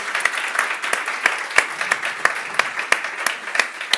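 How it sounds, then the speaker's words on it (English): A crowd applauds steadily, a dense wash of clapping with a few sharper claps standing out. "A round of applause."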